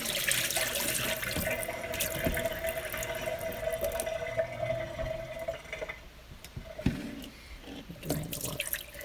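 Cold well water sloshes and pours off a batch of homemade salted butter during rinsing, a steady close splashing stream with a few heavier gurgles and drips near the end.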